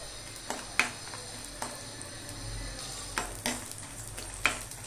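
Lentil dumplings (dal bori) fry in a pan with a steady low sizzle, punctuated by several sharp clinks and scrapes of stirring utensils.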